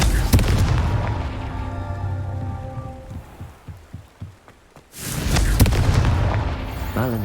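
A Confringo fire spell goes off in Hogwarts Legacy with a loud, wide burst of crackling rain-like noise and booms, then a string of smaller thuds. A second heavy blast follows near the end.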